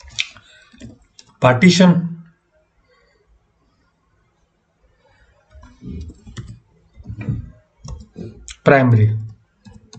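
Keyboard keys clicking in short bursts while a diskpart command is typed on a computer, heard between stretches of someone talking.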